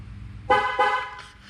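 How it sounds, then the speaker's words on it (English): Two short, close car horn honks in quick succession from a 2005 Chevrolet Corvette C6, the second slightly shorter, over a low background hum. "you heard that double honk"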